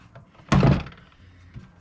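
A door panel pulled free from a Jeep ZJ door gives one sharp, close thunk with a brief rattling decay, preceded and followed by quiet handling noises.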